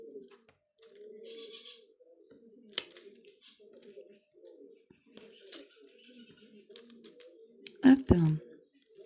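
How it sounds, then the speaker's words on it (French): Pet birds chirping indoors at home, small intermittent chirps and peeps against a quiet room with a woman's soft speech running underneath and a louder clatter near the end. "Vous entendez certainement mes oiseaux."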